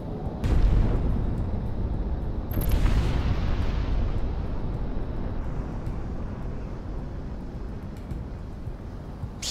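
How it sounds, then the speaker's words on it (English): A heavy, booming explosion in the video game Project Wingman, a bomb hitting cargo, with a deep low rumble, followed by a second blast and a sustained roaring, rumbling aftermath. "Explosion."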